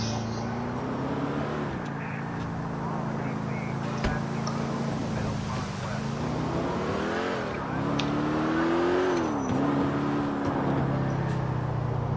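A car engine in the Delta Force video game drones steadily as the vehicle drives fast, with pitch rising and falling through turns and revs, under an ongoing background hum.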